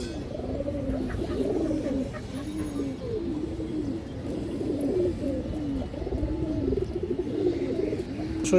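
Sobji Giribaz pigeons for sale coo in a steady, repeated rhythm, soft and fairly close, with low background noise and no talk.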